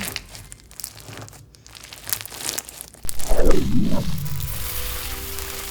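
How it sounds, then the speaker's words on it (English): Thick crunchy slime with charms and beads squelches and crackles as it is squeezed, a close, wet crinkling that swells louder partway through. "And it got so crunchy."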